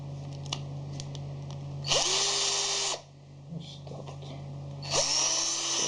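An NV-07 cordless screwdriver runs in two bursts of about a second each, whirring up to a steady high pitch at different speeds, with quieter clicks between and faint talk.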